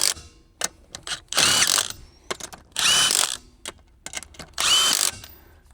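Ratchet wrench tightening the wheel lug nuts on a Can-Am Commander in a star pattern: three loud bursts of rapid ratcheting clicks separated by quieter handling clatter and short taps, close by with no talk.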